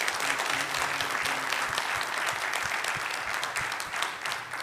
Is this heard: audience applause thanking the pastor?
yes